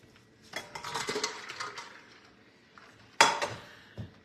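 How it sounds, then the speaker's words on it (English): Boiled eggs tumble and clatter in a pan as they are drained at a kitchen sink: a run of knocks and clinks with running water, then a pause, and a sharp louder clank near the end. "I take my eggs to the sink and drain them."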